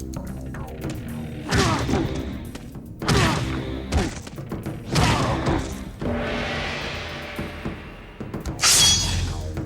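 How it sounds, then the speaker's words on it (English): Hungar's power and pop-up attacks landing in Mortal Kombat: Deception, a series of heavy, booming thuds and whacks spaced about a second apart, followed by a crashing, shattering hit. "Next, learn these Hungar power and pop-up attacks."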